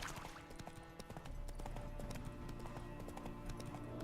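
Horse hooves clip-clop in a steady, moderately close rhythm in The Witcher 3, with faint background ambience underneath.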